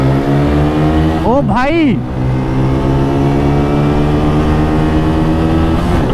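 A Pulsar 180 and an Apache 160 4V motorcycle race together, engines droning steadily and loud at close range as one revs higher, with a brief shouted voice over the engine noise.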